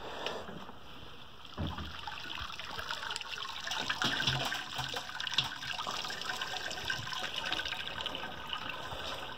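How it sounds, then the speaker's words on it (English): Wort drains from the basket of a Mash and Boil brewer with a modified drain tube during the sparge. It makes a continuous faint trickling and splashing runoff that stays steady throughout. "You can hear I got a pretty good runoff going in there"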